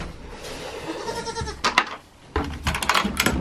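Goats bleat outdoors at a farm with a chicken coop, several loud nasal wavering calls in close succession, some overlapping, near the listener with no talk.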